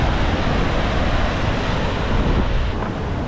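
High surf crashes and washes against a Hawaiian lava shore in a continuous loud roar, with wind buffeting the microphone throughout.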